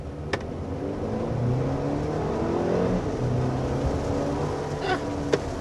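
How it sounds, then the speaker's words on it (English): A 2022 Mercedes GLB 250 with a 2-liter four-cylinder engine accelerating, heard from inside as a steady engine drone rising in pitch through the gears, with a couple of brief clicks. "So there's a little acceleration in the GLB 250."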